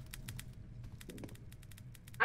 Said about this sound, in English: I'm the best at typing.